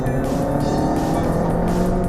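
A Fiat 500 Abarth SC&C with its Super Sport kit drones steadily from inside the cabin while driving, a continuous loud engine note with no voices.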